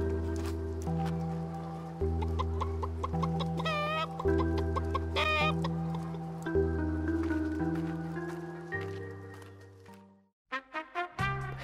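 Giant chicken in the wild clucking in a series of short throaty calls over a steady droning background with layered music-like tones, ending in a few clipped bursts after a brief drop-out.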